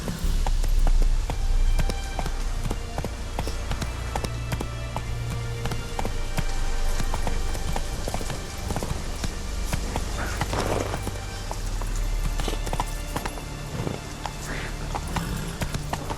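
Roach, a horse in The Witcher 3: Blood and Wine, gallops with steady clip-clop hoofbeats over an ambient game soundscape, and a voice speaks briefly over the hooves.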